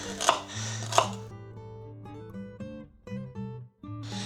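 Two sharp knife chops on celery land near the start, close and crisp, followed by a steady tonal background with no further cutting.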